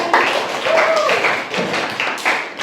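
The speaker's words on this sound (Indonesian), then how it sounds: "Tepuk tangan untuk pemecahan masalah kita." Students in a classroom clap for a group's problem-solving answers, giving several seconds of uneven, close claps with no speech over them.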